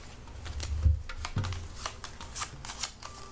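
Movement cards for the board game Tiny Epic Quest being shuffled, a quick close run of riffling and soft slaps over a few seconds.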